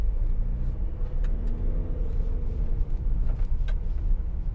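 A 2018 Ford Transit Custom 2.0 TDCi 290 L1H1 van with a six-speed gearbox on the move, its diesel engine a steady low rumble heard from inside the cab, with road noise and small knocks throughout and no talking.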